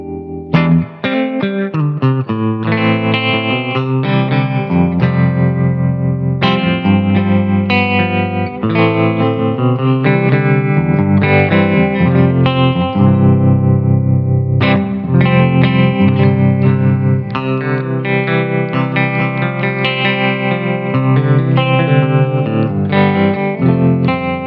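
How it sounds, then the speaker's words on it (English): Clean electric guitar chords and melody played through a Simplifier MK2 pocket amp with Flint tremolo and reverb, a continuous, close, sustained passage with pulsing shimmer and a lingering reverb tail. "Maybe a clean sound with a simplifier and the Flint on. So I use the tremolo and the reverb from the Flint."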